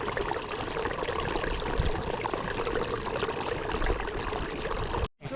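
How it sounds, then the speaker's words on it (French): Small stream of water made on a Mont Blanc ascent, feeding a puddle: a steady close trickling and splashing flow, continuous and unbroken until a brief cut near the end. "On a fait un petit ruisseau"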